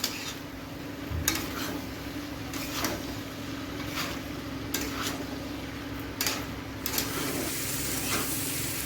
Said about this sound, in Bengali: এখন এটা ভালো করে কষাবো কাবলি চানা আলু দিয়ে।